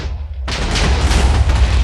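A TNT block detonates in Minecraft Beta 1.3. After a short quiet lead-in, one sudden loud boom breaks into a broad crackling roar that keeps rumbling for over a second.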